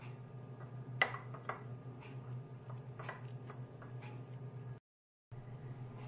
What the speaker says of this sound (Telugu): ఇవన్నీ వేసి చక్కగా మిక్స్ చేసేసుకోవాలి